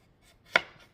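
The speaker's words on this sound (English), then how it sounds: "So I'll go in and cut this up in threes to the best of my ability." A single sharp knife chop through a cucumber on a cutting board while making dill pickles, one close, crisp thunk in an otherwise quiet moment.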